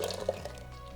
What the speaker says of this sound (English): We're just pouring back the whole soup.